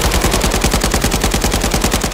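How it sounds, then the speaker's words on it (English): Rapid automatic AK-104 rifle fire in Call of Duty Modern Warfare III, a loud, evenly paced burst of gunshots that runs without a break and has no voices over it. "So is our AK-104 Midwest Industries Zeneco build."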